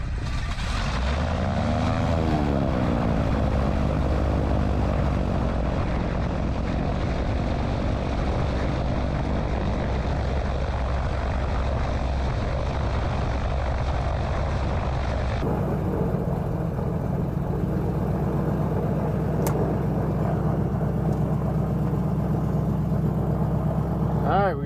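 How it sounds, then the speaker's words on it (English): A Beechcraft Queen Air's right piston engine cranks and catches, then runs as a loud, steady propeller drone close by, its tone shifting to a smoother idle partway through. "We got the right engine started."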